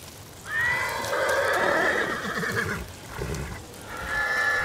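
Kage, a horse in Ghost of Tsushima, lets out a loud, drawn-out whinny followed by a second shorter neigh, with faint hoofbeats underneath and no voices.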